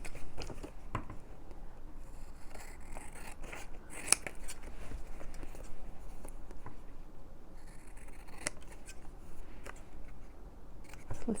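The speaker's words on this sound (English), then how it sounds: "Let's listen to the noise of the scissors." Scissors snip through paper while crafting a Christmas file-folder notebook, a close, quiet run of crisp cutting strokes in an uneven rhythm with small rustles between them.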